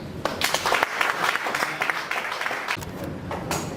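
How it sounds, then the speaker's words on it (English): An audience claps at the official launch of an organisation's five-year strategic plan, giving fairly close, crisp applause with distinct individual claps that carries through the whole moment. "So we need to clap for them."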